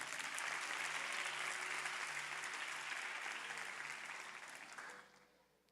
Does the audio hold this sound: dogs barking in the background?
no